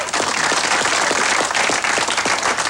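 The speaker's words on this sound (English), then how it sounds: "Give yourself a big round of applause." A studio audience at a memory-training seminar breaks into applause, many hands clapping in a brisk, dense patter, loud and close for the whole stretch.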